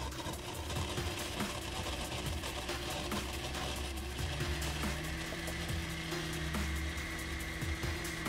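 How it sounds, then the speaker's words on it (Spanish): An electric blender purees a kiwi daiquiri cocktail with ice, a continuous dense grinding roar with rattling ice that holds steady throughout and stays loud and close. "vamos a proceder a licuar nuestro cóctel"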